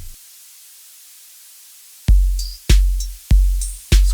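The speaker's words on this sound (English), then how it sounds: "So right now the hiss level is constant," Steady tape hiss from a tape deck emulation plugin in FL Studio plays alone for two seconds as a constant soft static, then heavy drum beats kick in over it.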